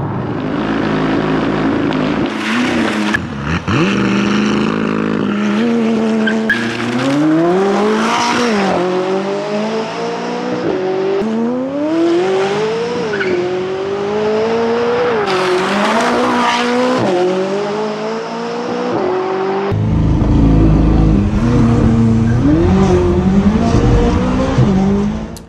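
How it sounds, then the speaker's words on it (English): A McLaren launching hard and accelerating, its engine roaring and rising through repeated upshifts, with tire squeal and a loud close-up roar toward the end and no talking. "what you've all came here to see is me launching this McLaren"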